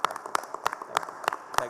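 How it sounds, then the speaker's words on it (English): Steady, evenly spaced hand claps at a conference, about five sharp claps in under two seconds, fairly close and moderately loud, with no talk over them. "I request everyone to stand up and clap loudly for the speaker"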